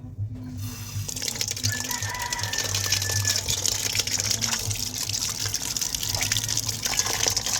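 Water from a kitchen tap runs steadily into a sink while fresh salmon is rinsed, a continuous close splashing gush after a brief quiet start.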